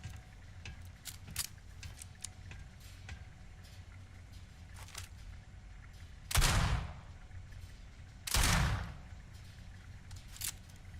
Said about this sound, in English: Nobody hears them gunshots.